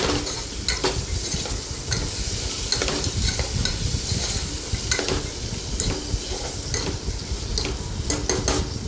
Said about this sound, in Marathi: आणि कोथिंबीर टाकायची आणि मस्त सगळं हे परतून घ्यायचं आहे आपल्याला